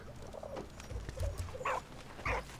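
A dog barks a few times in the World War I video game Valiant Hearts: The Great War, short soft yips and woofs over a quiet, rumbling game backdrop.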